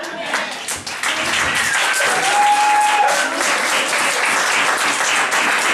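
A church congregation applauds and acclaims the Lord, a steady, dense wash of clapping and cheering voices that fills the whole stretch without a break.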